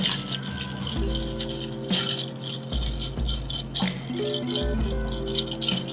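Ice rattles continuously and close up as a bar spoon stirs a Negroni in a mixing glass, making a busy clinking churn with no talking.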